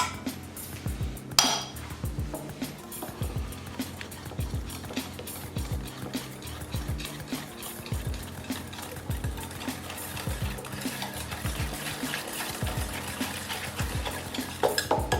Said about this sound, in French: je vais ajouter mon beurre fondu. Pareil, je mélange.